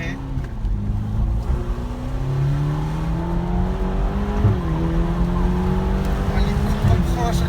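A Ferrari GTC4 Lusso T accelerating hard from inside the cabin, its engine note climbing steadily and dropping sharply at each gear shift, loud and continuous throughout.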